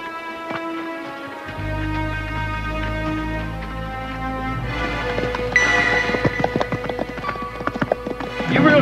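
Horses' hooves clip-clop steadily on hard ground in a Western movie scene set around Tombstone, the rhythm quickening and growing louder as the animals draw near, with a neigh and voices mixed in.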